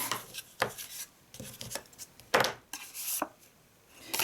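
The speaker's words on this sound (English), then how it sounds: "And so we fold that and burnish that." Scored cardstock being folded and then burnished flat, heard as a series of short, close rubbing and scraping strokes with brief pauses between them, fairly quiet with no voices.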